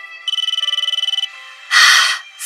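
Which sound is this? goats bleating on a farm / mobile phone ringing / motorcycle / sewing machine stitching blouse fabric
mobile phone ringing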